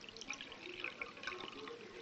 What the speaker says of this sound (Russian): Нужно налить туда воды.